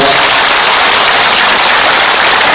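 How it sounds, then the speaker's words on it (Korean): Audience at a Jecheon city event gives loud, dense, continuous applause, a close wash of clapping with no breaks throughout. "큰 박수 부탁드리겠습니다"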